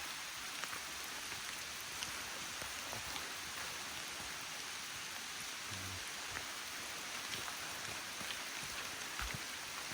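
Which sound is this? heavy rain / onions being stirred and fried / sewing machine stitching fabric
heavy rain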